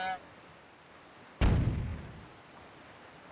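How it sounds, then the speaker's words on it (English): A single loud video game explosion booms suddenly after a quiet stretch, its rumble decaying over about half a second. "I thought I heard the sound of explosion."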